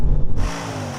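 Audi S8 accelerating hard on kick-down in a drag race, a loud rumbling engine surge that settles into a steady, dense mechanical drone, close and continuous.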